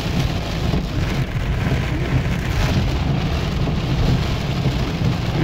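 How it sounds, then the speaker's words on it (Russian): Heavy rain pours down in a steady, dense hiss over a low rumble during an off-road event in Priluki. It is loud and continuous, with no talking. "давно такого дождя не было"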